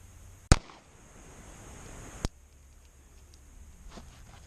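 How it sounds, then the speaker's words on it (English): A single sharp gunshot from a Trailblazer LifeCard .22 WMR pistol, close and loud. A second, softer crack follows about two seconds later over quiet outdoor background. "Gun goes bang."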